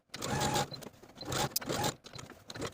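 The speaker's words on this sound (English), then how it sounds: "we're going to take it to our machine and edge stitch along the side and bottom edges all around the pockets" A sewing machine runs while edge stitching the side and bottom edges of pockets on elastic-waist paper bag shorts, with short whirring, rattling bursts of stitching separated by brief pauses, close and fairly loud.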